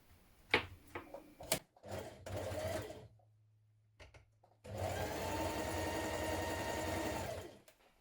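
A domestic sewing machine joins jacket pieces at the shoulders in two runs: a short whirring stretch after some handling clicks, a pause with a low hum, then a longer steady, close stitching burst that winds down.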